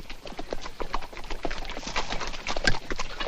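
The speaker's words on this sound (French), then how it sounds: "J'amène cheval pour vous." Horse hooves clip-clop in a steady series of strikes at moderate distance, with faint background noise and an occasional louder hit.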